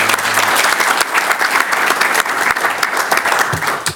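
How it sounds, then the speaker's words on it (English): Audience applause after a talk on a household demand-response experiment: a loud, dense burst of many hands clapping together, steady and close throughout with no voices over it. "could we have a brief round of applause for Sam and Mariana for their time?"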